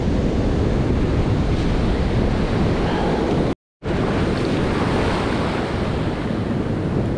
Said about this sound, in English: I think all these waves and currents coming from these offshore storms in the background here.